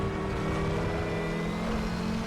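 Audi TT RS race car engine in the sim racing game RaceRoom at the Nordschleife, a steady loud droning whine with tonal harmonics, holding a constant pitch throughout with no talk.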